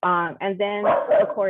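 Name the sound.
dog barking at the UPS delivery man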